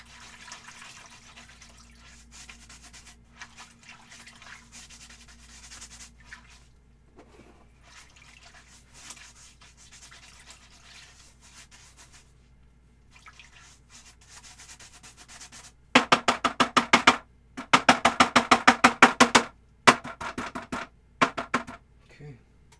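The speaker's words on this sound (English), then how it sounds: "Let's clean off the brush." An oil painting brush cleaned by rubbing and scrubbing, soft scratchy strokes at first, then a burst of loud rapid rhythmic swishes near the end, with faint close speech in places.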